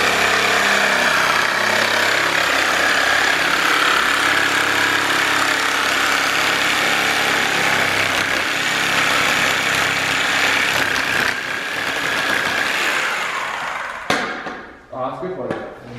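A turbo Honda car engine runs loud and steady at close range, a dense mechanical drone with rough chopping texture, then quickly drops away near the end, while someone talks over it.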